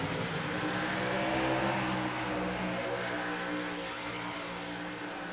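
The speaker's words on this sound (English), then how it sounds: "Engines have been fired." Dense, roaring race car engines at the start of the Pumpkin 250 with 42 cars, a loud steady blended drone from many engines without speech.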